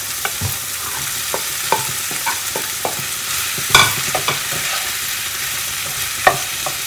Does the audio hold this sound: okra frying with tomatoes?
yes